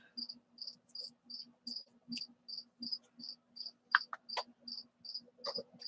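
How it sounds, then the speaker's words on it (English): An indoor pet cricket chirps in a steady, evenly spaced series of shrill pulses, close and continuous, with a few soft clicks and knocks in the background. "Yeah, I have a cricket."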